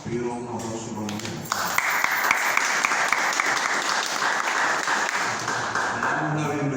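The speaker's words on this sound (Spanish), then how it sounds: "pido un aplauso para él." An audience applauds a Cuban poet at a book presentation, a dense, sustained wash of many hands clapping that swells after a spoken introduction and continues steadily, with voices at the start and end.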